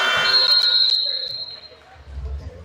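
End-of-quarter buzzer at a men's exhibition basketball game between the VIU Mariners and UFV Cascades, a loud sustained electronic tone sounding over crowd noise before fading out.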